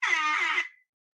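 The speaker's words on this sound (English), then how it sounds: "Oh, that was my air horn." One short, loud blast from an air horn, a buzzy, brassy tone lasting under a second that then cuts off into silence.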